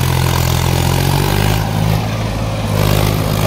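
A Mahindra 265 DI XP Plus tractor engine runs steadily close by, a loud, continuous low throbbing drone with a slight dip and swell in power.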